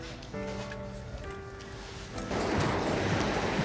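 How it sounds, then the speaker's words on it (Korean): A waterfall roars in a steady broadband rush that swells louder near the end, with wind noise and faint background tones over it; no one speaks. "여기 이제 지나가다가 요 폭포가 있어서"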